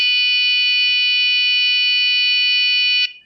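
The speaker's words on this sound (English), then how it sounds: "So I've got a buzzer that's about 10 times louder than my previous one, and this one you should have no problem hearing." A much louder electronic buzzer on a yarn counter sounds one steady, piercing tone for about three seconds before cutting off abruptly, with nothing else audible.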